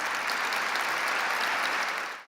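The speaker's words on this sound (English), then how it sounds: "let's stand so we can give them a round of applause" An audience gives a standing round of applause for Assembly members at a formal event, dense even clapping from a large crowd that stops abruptly.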